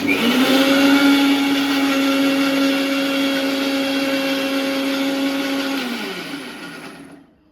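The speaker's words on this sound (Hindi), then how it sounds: "ये मिक्सी बहुत आवाज करती है" A two-year-old kitchen mixer grinder in need of servicing runs loud and steady with a whining motor hum, close up, then winds down and stops near the end, with no talk over it.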